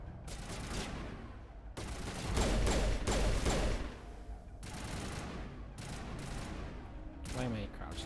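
Pistol gunfire in the shooter game Mass Effect: bursts of rapid shots and impacts in clustered volleys separated by short gaps, loud and close, with a voice speaking briefly amid the combat noise.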